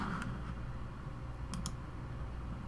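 A few quiet computer mouse clicks over a low steady hum, a faint click early on and a pair of sharper clicks close together in the middle, with no voices.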